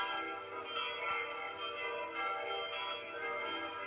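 The five chapel bells of Sainte-Étienne chapel in Sully ring together in a full peal, a steady, overlapping metallic chime with sustained overtones and soft repeated strikes, heard from a distance at low level.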